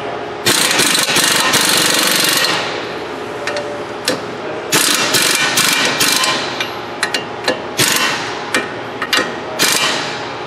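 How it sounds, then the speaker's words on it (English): A ratchet tightens a castle nut on a Ford Edge steering knuckle, loud rapid clicking bursts close up, repeated in several runs with short pauses and sharp metallic knocks between them. "This castle nut tightened up."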